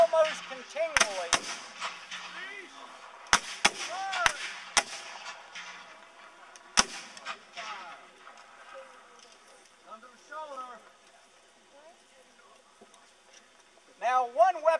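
Confederate reenactors at Pitzer Woods on the Gettysburg battlefield fire infantry rifles, a sequence of sharp loud cracks spaced unevenly over several seconds, while people talk nearby throughout.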